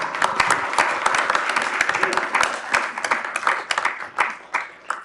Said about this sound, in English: So I think he deserves a round of applause also.